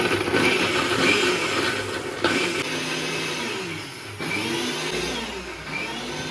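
A kitchen blender grinds cashews, melon seeds and poppy seeds into a paste for biryani. The motor whines loudly up close, its pitch rising and dipping as the load shifts, with brief stutters in between.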